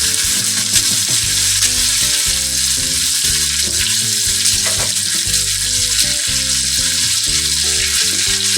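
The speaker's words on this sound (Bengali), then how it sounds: "পেঁয়াজটা সামান্য লাল করে দেব" Sliced onions sizzle loudly and steadily in hot oil for a chicken kofta curry, a dense continuous frying hiss with faint stirring beneath, but with a musical backing track running throughout.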